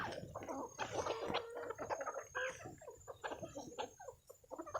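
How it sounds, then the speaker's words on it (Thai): Home-raised bantam chickens cluck and squawk close by while being fed, a busy series of short, irregular calls overlapping one another. "การให้อาหารไก่แจ้ง ไก่บ้านนะคะ"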